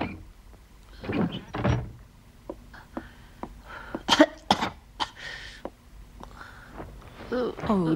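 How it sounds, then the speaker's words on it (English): A cartoon Moomin, sick in bed with a cold, coughs in several rough bursts spread over a few seconds, with throat-clearing sounds and faint quiet gaps between them. "that's a nasty cough"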